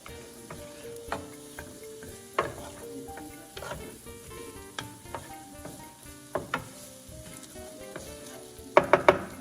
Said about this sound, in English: begin to saute your onions